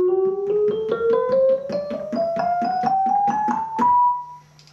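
A keyboard plays the first of three scales, a quick run of about a dozen distinct notes climbing steadily in pitch, clean and close with no talking.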